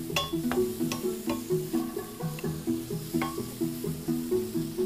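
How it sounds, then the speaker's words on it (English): Mushrooms sizzle in a hot pan while a utensil stirs them, with a constant frying hiss under repeated scraping strokes and clicks of the utensil against the pan, and no voices. "So we'll stir our mushrooms a little bit, see if they've gotten some color on them."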